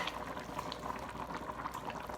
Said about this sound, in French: ah là, ça bouille. Mon chaudron bouille.